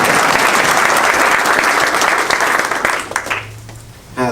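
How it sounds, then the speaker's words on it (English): A press-conference audience at the launch of Louisville, Kentucky family learning sites gives sustained, dense applause, loud and steady, which thins into scattered claps and fades out near the end. "Can y'all give yourself another round of applause?"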